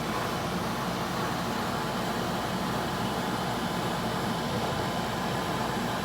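An AlorAir LGR dehumidifier runs with a constant, broadband airflow whoosh and low hum, steady and unbroken from start to finish, no speech.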